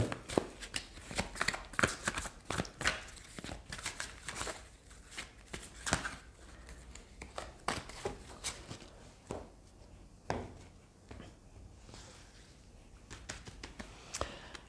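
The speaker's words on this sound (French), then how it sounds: "Je tire les cartes devant vous dans toutes mes vidéos" Tarot cards shuffled and drawn up close, a dense run of crisp riffling flicks and soft slaps through most of the stretch, thinning to scattered taps and card placements later, with no talking.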